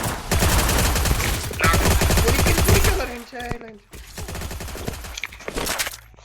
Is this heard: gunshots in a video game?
yes